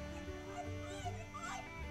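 A dog whimpers softly in a quiet rural setting, thin whining tones rising and falling over about two seconds, faint and fairly close, with some low background noise.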